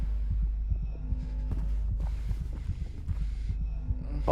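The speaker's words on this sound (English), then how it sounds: "The heartbeat of my character dying adds so much to this feeling." A loud, steady heartbeat pounds in the Silent Hill 2 remake as the character is dying, a regular low thumping pulse over a deep droning hum, with faint higher tones drifting above.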